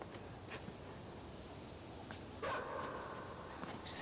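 A dog barks in the dark side-scrolling video game Inside, a short distant bark and whine cutting through a hissy, rumbling ambient backdrop, faint and isolated.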